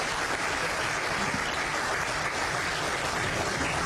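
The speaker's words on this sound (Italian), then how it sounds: "Un applauso per lo Soronco." An audience applauds continuously at a steady, even level, a broad wash of clapping with no voices standing out.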